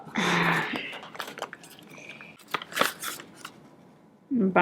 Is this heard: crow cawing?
no